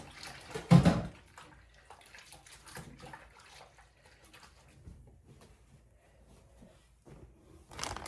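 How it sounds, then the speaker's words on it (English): Hands washed under a running kitchen tap, a loud burst of splashing water near the start, then quieter trickling and handling sounds before another surge of water at the end. "let me wash my hands"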